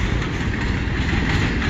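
An eastbound CN mixed freight train rolls past a grade crossing near Emmett, Michigan, a steady, loud rumble of wheels and rail clatter that fills the whole moment without pause.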